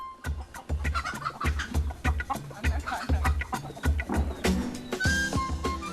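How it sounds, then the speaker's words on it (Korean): Chickens cluck nearby in a busy, repeated rhythm, short clucks overlapping one another with faint farmyard background, on a farm on Ulleungdo island, South Korea. "닭도 있었네요."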